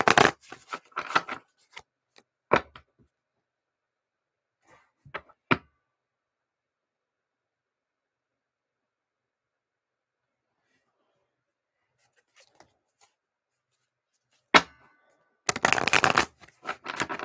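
A deck of cards being shuffled for a card reading, a quick riffle up close, then scattered soft taps and long quiet gaps before another brisk shuffle at the end.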